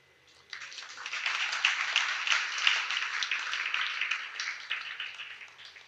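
An audience claps together at a temple scripture class, starting abruptly and holding a steady, dense patter of many hands for several seconds, fairly loud and close, tailing off slightly near the end.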